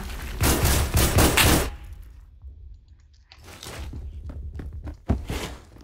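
Shotgun blasts in the Phantom Forces shooter game: a dense burst of loud, booming shots at the start, then quieter scattered thuds and clicks, and another sharp, close report near the end.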